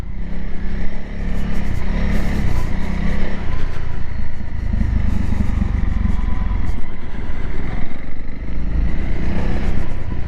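Honda CRF300L dual-purpose motorcycle riding off-road on green lanes, its engine loud and close with steady low rumble and revving surges throughout, plus rattling clatter over rough ground.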